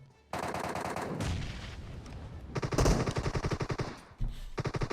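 Gunfire in the mobile video game PUBG Mobile on the Miramar map comes in loud bursts and rapid automatic strings, with a brief pause near the end before more shots.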